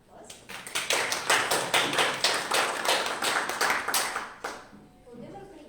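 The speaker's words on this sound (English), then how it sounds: "Please, round of applause." Scattered clapping from a small club audience at a speech contest, sharp individual claps building into a short round of applause that fades after a few seconds.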